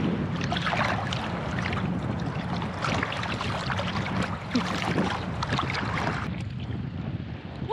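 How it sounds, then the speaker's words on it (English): Boats move on open water near swimmers, giving a soft, steady wash and motor-like rumble mixed with gusty wind buffeting the microphone. "And here there's a lot of boats."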